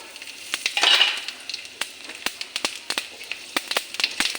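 Whole spices (bay leaf, dry red chillies, cloves, cardamom, cumin seeds and fenugreek) crackle and sizzle in hot oil in a kadai, with a brief louder burst early on and sharp utensil clicks scattered throughout.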